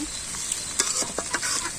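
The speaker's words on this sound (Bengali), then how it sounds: "এই যে দেখেন বন্ধুরা মাংসটা আমি কত সুন্দর করে ভাজছি" Steady close sizzling of meat frying in a pan, with short stirring scrapes over the hiss.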